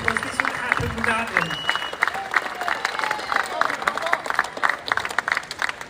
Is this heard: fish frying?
no